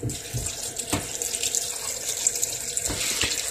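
A kitchen tap refills a bowl of salted cabbage being rinsed for kimchi, water streaming and splashing nearby with a few sharper knocks of handling, no voices.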